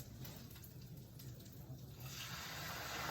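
Liquid pours into a pot during keto home cooking, a steady close rushing splash that swells louder toward the end.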